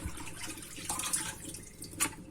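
Raw anchovies rinsed under a running kitchen tap for cornmeal-fried Sinop-style hamsi, a steady close hiss of flowing water with brief splashy bursts as the fish are stirred in the stream, no talking.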